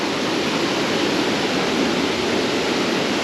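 A creek waterfall pours in a steady, dense rush of white water, loud and close with no pauses or voices.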